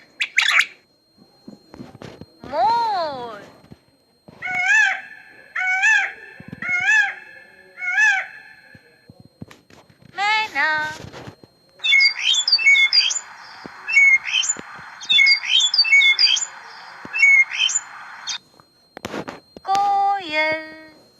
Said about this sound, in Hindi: मोर